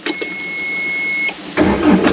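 A Takeuchi TL240 skid steer loader, heavily used, cranks with a steady whirring starter for over a second, then its engine catches and rumbles loudly up close.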